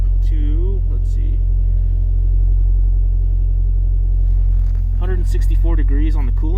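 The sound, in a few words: Toyota MR2 engine starting and running warm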